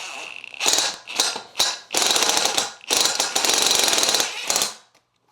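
A power driver whirs in several short bursts then longer runs, driving a screw into the motor of a Topsky standing desk, with brief pauses between each ratcheting spin.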